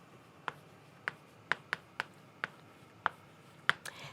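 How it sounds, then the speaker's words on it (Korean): Chalk or a marker taps out a word on a classroom board in about nine short, crisp strokes at an uneven pace. The strokes are close and clear, with no voices. "제가 그 단어를 한번 써볼게요."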